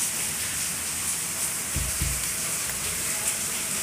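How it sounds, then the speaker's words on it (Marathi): A downpour hisses steadily around a balcony garden, a continuous wash of heavy rain with a couple of dull low thumps partway through. "आमच्याकडे आता खूप जोराचा पाऊस चालू आहे"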